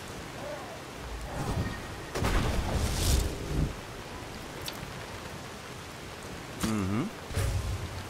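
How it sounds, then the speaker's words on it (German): Rain pours in the fantasy video game Skyrim: Enderal, a dense continuous hiss with swelling low rumbles like distant thunder, loud and unbroken, with no speech. "Und seit wann gibt's Regen?"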